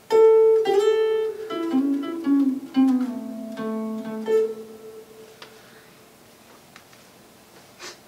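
A clean guitar plays a short melodic phrase from a solo of 5/8/77, single notes with slides and bends, close and clear, fading into near silence at the end.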